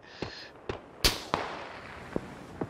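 Sharp, isolated gunshots in PUBG, about six distinct cracks spaced irregularly over a few seconds, one louder and closer than the rest, over a quiet background.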